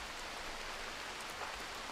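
Steady rain in the video game Rimworld during a bitter cold winter, a dense, even hiss of falling drops at low level with no voices.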